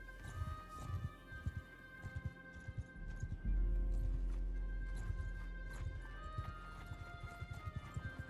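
Horse hooves clip-clop in the Mount & Blade II Bannerlord video game, a steady run of sharp hoofbeats with a whinny or heavy rumble in the middle, close and clear with no talking.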